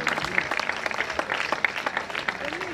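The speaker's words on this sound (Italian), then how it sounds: "Facciamo un applauso davvero a tutti e a tutto il team di organizzatori." Audience at an opening ceremony in Venosa clapping for the organizers, a dense, moderately quiet round of applause with some background voices mixed in.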